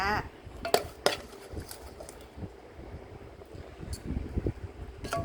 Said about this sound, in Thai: ตักใส่จานกันตัว ตักใส่จานจ้า